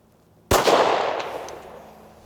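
A single sharp Ruger 57 pistol shot cracks out at 150 yards toward a solid-mounted full-size steel silhouette target, followed by a dull thud instead of a ring, with the report decaying over about two seconds.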